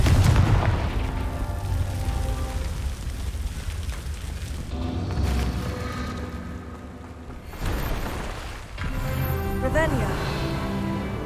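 A Confringo blasting spell from Hogwarts Legacy erupts in a heavy, booming explosion followed by further rumbling bursts and crackling impacts, with a voice speaking over the game sounds.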